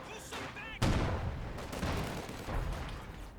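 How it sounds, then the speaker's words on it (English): Artillery guns fire in a Company of Heroes 2 battle: a sharp loud boom followed by rumbling, scattered shots and distant blasts, with faint voices in the mix. "we actually hear the artillery gun fire"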